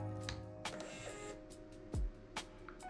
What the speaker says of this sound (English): So I bought this nifty little Bluetooth powered printer. It's a thermal printer.